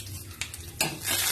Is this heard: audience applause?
no